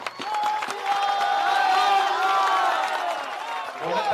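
Crowd at an outdoor political rally in Bihar clapping and cheering, a broad sustained roar of applause and voices that holds steady before tapering off.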